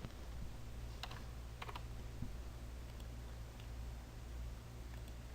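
Light, quick keystrokes on a computer keyboard tap out a short text label in CAD software, soft clicks coming in small irregular bursts over a faint steady background hum.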